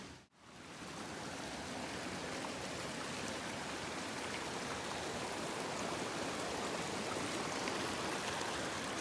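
Mountain stream flowing right behind a backcountry campsite in Kananaskis, a steady, loud, broadband rush of water that holds constant throughout with no voices.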